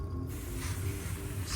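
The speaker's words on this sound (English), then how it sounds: "spray everything just like this. This little spray bottle thing is awesome." A handheld spray bottle mists water over indoor plants in a grow station, giving a soft continuous hiss that swells in bursts, close and fairly quiet.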